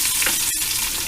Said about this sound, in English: While the butter's sizzling,